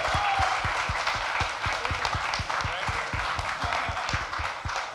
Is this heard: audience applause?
yes